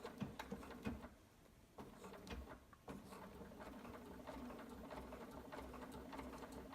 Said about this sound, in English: And now we're ready to sew the flap on using our SewTites to keep it in place.